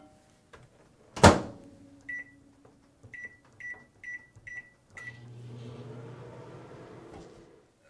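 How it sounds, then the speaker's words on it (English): A microwave door shuts with a clunk and a series of short beeps sounds as it is set to half power for chocolate. Then the oven starts up with a steady low hum. "We're going to microwave the chocolate for 30 seconds at half power."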